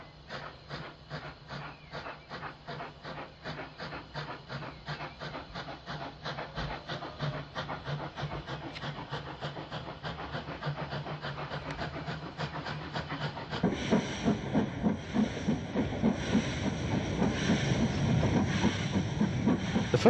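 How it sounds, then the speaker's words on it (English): A former London Brighton and South Coast Railway tank steam locomotive, No. B327, pulls out of London Bridge station on a Brighton train. Steady rhythmic chuffs with a hiss quicken and grow louder as it gets under way, with no voices. "A former London-Brighton South Coast Railway 464 tank, number B327, leaves the station with the 2 o'clock Saturdays only for Brighton."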